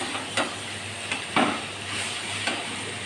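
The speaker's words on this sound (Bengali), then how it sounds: "চিচিঙ্গাটা ভাজা ভাজা হয়ে এসছে।" Snake gourd frying in a pan for a Bengali ghonto with hilsa fish heads, giving a steady soft sizzle with a few scraping stirs of a spatula, close and alone.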